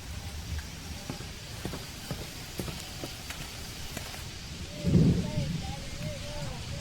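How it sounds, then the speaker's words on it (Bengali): Rain falling steadily in the Amazon rainforest, with a low rumble of thunder rising near the end and scattered taps and rustles close by. "বৃষ্টি পড়ছে।"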